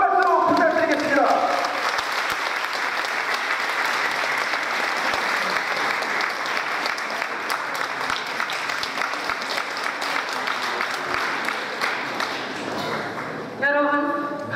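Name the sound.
audience applause for the host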